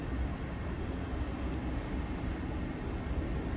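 Steady low rumble of MBTA Red Line 1800-series subway cars rolling past at Braintree Station, a continuous broadband roar at constant loudness with no voices.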